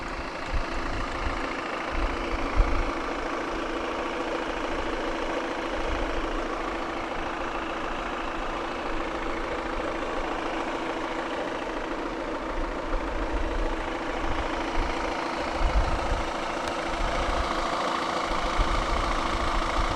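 A 2016 Volvo V60 2.0 D4 190 diesel engine idles with a steady, low, rumbling clatter that holds even throughout, heard close with no voices.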